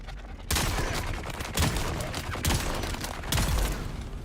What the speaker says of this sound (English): Thank you for shooting at me.